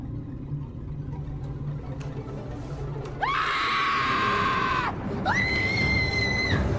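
A loud, sustained scream rises and holds, then a second shorter scream follows, over a low background rumble.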